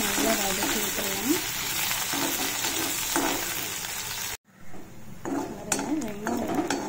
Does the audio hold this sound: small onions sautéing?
yes